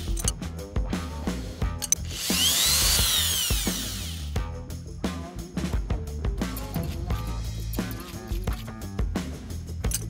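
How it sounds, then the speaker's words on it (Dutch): A spade bit bores into a wooden post where a threaded end will go, the drill whining loudly for a couple of seconds amid scraping and knocking of handling, no talk. "boor je met een speedboor een gat waar het draadend in moet komen"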